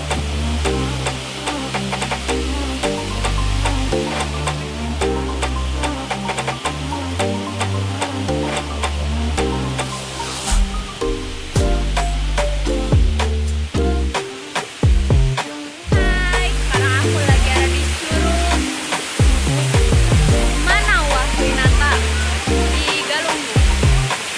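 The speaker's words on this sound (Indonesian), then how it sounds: "ini merupakan salah satu lokasi yang banyak orang-orang datangi karena merupakan air terjun yang sangat indah" A loud, continuous roar of a waterfall at Batu Mahpar, Galunggung, dense rushing water filling the whole scene with no pauses.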